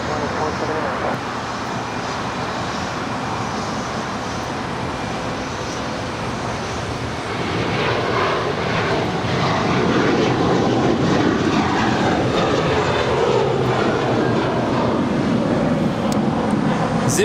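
An American Airlines airliner takes off from LAX runway 25 right, its jet engines building from a distant rumble to a broad, loud roar that holds to the end, with people talking over it.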